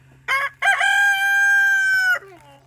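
A chicken gives a short call, then a long, loud, drawn-out cry close by, with a steady low hum underneath, while the chickens are fed mutton fat.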